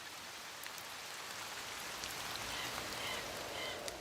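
Steady rain falls through a forest onto a giant cedar and its fine spiky leaves, a constant dense hiss of drops with no pauses and no voices.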